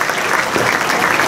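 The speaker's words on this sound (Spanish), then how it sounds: "Con los aplausos de parte de todos ustedes" Loud, dense audience applause fills the whole stretch, steady and close, following the Itaipú Dam Monumental Illumination show, with no voices rising above it.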